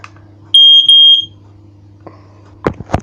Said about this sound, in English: Home smoke alarm test.